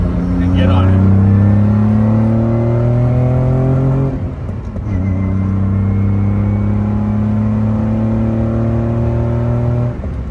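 A 1971 Aston Martin DBS with a 4.7-litre Vantage-spec engine and short shift kit accelerates hard in second gear from inside the cabin, a loud rising engine drone that drops at a shift and climbs steadily again.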